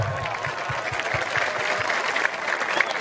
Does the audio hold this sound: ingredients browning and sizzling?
no